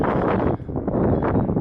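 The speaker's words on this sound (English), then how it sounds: "It's real windy." Loud, steady wind buffets outdoors, roaring and gusting with a brief lull partway through.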